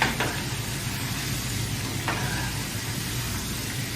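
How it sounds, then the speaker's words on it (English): Steady sizzling of shrimp deep frying in about three inches of hot oil, a continuous crackling hiss with no voices. "when you're frying, that you have enough oil in your pot. You want it to be a deep fry"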